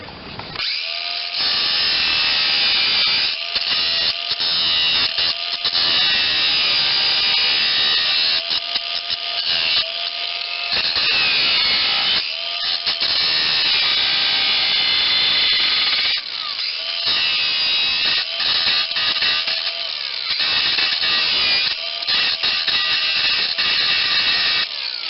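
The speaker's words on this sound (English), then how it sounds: "So we are going to re-drill those, so we can thread them directly into this plate where they belong." Power drill re-drilling holes in a metal plate, a continuous high whine with stuttering bursts and pauses as the bit bites, close and steady throughout.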